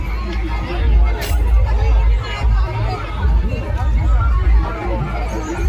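A dense crowd at a Nagpanchami village fair, loud continuous babble of many overlapping voices close around.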